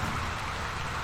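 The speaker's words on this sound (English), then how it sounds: "it's starting to rain" Steady rain beginning to fall outdoors at a house under renovation, a dense, even patter that fills the short moment without a break.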